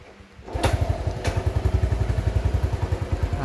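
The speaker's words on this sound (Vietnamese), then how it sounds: "mình sẽ nổ máy nha, nổ máy không cần lên ga này các bạn" A 1978 Honda Cub 70cc motorcycle engine starts up with a click without throttle and settles into a steady, rhythmic idle, close by, with no voices.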